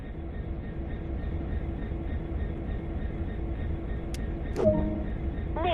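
Locomotive engine idling steadily in Train Sim World, a low continuous rumble with a steady hum, a brief hiss and clank near the end, no talk.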